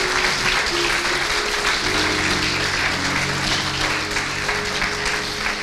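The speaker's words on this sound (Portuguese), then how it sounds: "Você pode aplaudi-lo, por favor?" A church congregation claps loudly and continuously throughout a Sunday service, a dense steady wash of applause with no pause.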